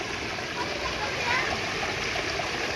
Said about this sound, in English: let you guys take in the beautiful river, George River here in Barbados